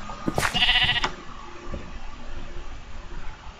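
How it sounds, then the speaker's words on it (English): Minecraft sheep giving a single bleat, loud and close, followed by faint game ambience with soft low thuds. "Let's try pushing the sheep off."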